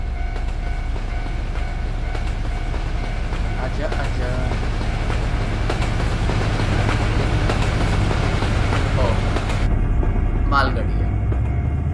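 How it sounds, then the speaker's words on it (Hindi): Japanese freight train rumbling past in Euro Truck Simulator 2 with a Nissan Warrior 2017, a steady loud roll with rhythmic wheel clatter throughout as a person talks over it. "चलो ट्रेन देखते हैं, जापानीज ट्रेन"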